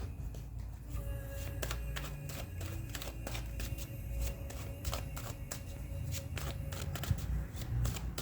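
Tarot cards shuffled continuously by hand, a steady rapid riffling and crisp flicking close up, with no talk over it.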